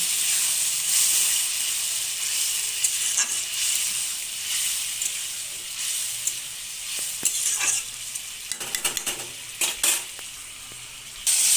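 Spice paste fries in oil in a pan, a continuous bright sizzle broken by repeated scraping and clinking of a spoon stirring against the pan, growing busier in the second half.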